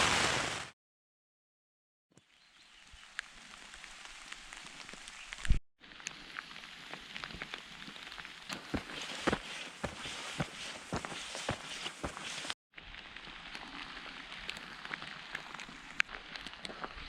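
Rain falling on a tarp at a wild camp in a thunderstorm in the Clwydian Range, heard as a dense patter of drops with sharp louder taps, close and continuous apart from two brief cuts to silence.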